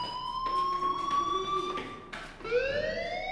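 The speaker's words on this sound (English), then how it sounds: "Hey, do you hear that fire alarm?" A school fire alarm in the game Life is Strange sounds as a steady electronic tone with harmonics, close and fairly loud, then cuts out briefly and returns at a lower, rising pitch; no voice speaks over it.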